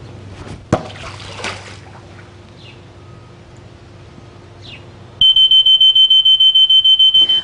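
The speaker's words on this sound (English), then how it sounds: "We can see that the pool guard set off a false alarm when the ball was thrown into the water." A Poolguard pool alarm sounds after a ball splashes into a swimming pool: a brief splash, then a loud, steady high electronic tone pulsing rapidly and continuously until the end.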